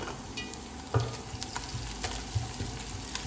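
Whole cumin and coarsely crushed fennel seeds fizz in hot oil for a samosa filling, a steady close sizzle broken by a few light knocks of stirring.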